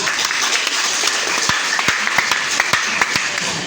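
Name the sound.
audience applause for Leoleba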